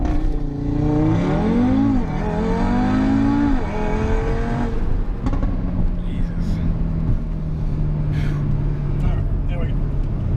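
A 2018 Audi RS3 launches hard from a standstill, its engine rising through a loud, rising rev, shifting, then settling into a steady strong drone heard from inside the car, with people talking over it.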